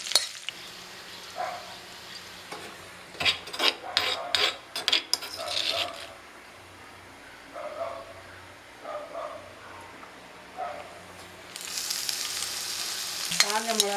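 Dried red chillies fry in oil in a pan, giving a soft continuous sizzle broken by clinks and scrapes of stirring, with the hiss swelling louder toward the end.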